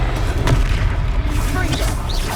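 A Confringo blast spell goes off in the Hogwarts Legacy video game during a troll fight, a loud deep boom amid dense battle noise, with a voice shouting over it.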